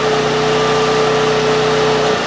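A portable gas generator runs steadily at close range, a loud continuous engine hum with a fixed pitch and no talk over it.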